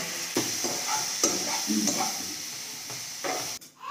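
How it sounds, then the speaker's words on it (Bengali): Marinated chicken hits fried onions in a hot pan with a continuous hiss and sizzle, stirred in a few scraping strokes; it stays fairly close and steady, then cuts off briefly near the end. "পেঁয়াজগুলো ফ্রাই হয়ে গেছে, এর মধ্যে দিয়ে দিই মাংস, ম্যারিনেট করে রাখা মাংসটা"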